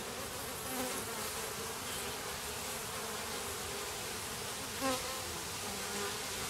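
Honey bees buzz steadily around hive frames during a hive inspection, a continuous close droning hum that swells briefly now and then as bees pass near.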